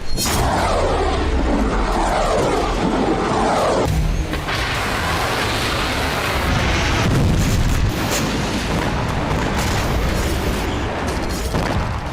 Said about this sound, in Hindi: कत्यूशा रॉकेट लॉन्चर जिसका इस्तेमाल हिजबुल्लाह ने इजराइल को दहलाने के लिए किया